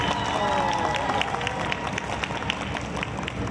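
Outdoor crowd at a sheep shearing contest in Tenjo, Cundinamarca applauds a contestant, with scattered clapping and murmuring voices mixed in, fairly steady and moderately loud throughout.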